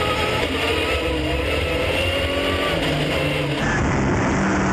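A Subaru Impreza rally car races along a rally stage, its engine roaring loud and strained with shifting revs, then abruptly dropping in tone near the end as it changes gear or passes by, with no voices.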